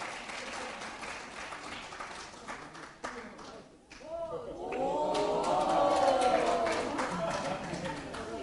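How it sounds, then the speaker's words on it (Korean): Warm applause from an audience at a political party convention greets a youth-wing candidate. Dense clapping fills the first seconds before a voice rises over the crowd noise. "뜨거운 박수로 맞아주시기 바라겠습니다"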